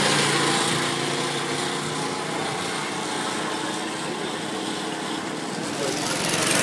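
Small go-kart engine on a track in Rhodes, buzzing high and loud as the throttle is held open, a steady revving drone that eases slightly midway and swells again at the end.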